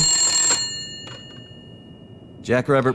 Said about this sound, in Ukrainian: Телефон.